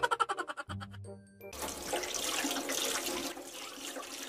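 Water sloshes and splashes steadily after a few opening tones, like scoops of water being poured for bathing in a small bathroom.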